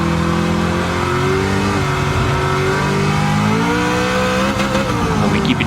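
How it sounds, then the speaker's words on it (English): The Red Devil Camaro race car engine screams at high revs, held in 2nd gear and bouncing off the rev limiter, loud and continuous with pitch wavering near the top. "And we keep it in 2nd gear because it's faster than upshifting, hitting the rev limiter a little bit."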